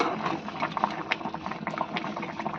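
Fish curry bubbles in a pot, a steady close, busy simmer with small pops and gurgles running through the whole stretch, no talking.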